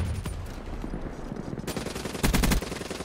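ICR-1 rifle fire in a shooter video game, rapid bursts of automatic shots, loud and close, with a heavier cluster of impacts near the end.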